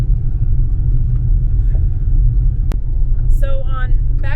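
A car drives along a road, giving a loud, steady low rumble of engine and tyres from inside the vehicle. A brief knock sounds midway, and someone starts talking near the end.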